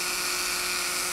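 A rotary tool with a carbide bit whines at high speed while carving wood, a steady, even, close-up buzz that lasts the whole moment.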